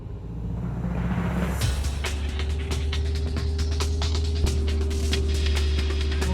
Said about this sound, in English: four-wheel drive low, here we come